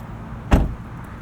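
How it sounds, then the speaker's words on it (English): The front trunk of a 2024 Ford Mach-E Rally pops open with a single short, close thud and latch release in a quiet setting. "And then we do have a frunk, a 2X pull to open that."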